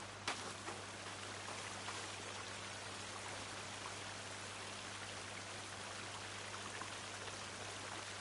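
Small waterfall in a forest cave level of a video game, a steady, soft hiss of splashing water with a low hum beneath, continuous and faint, heard alone.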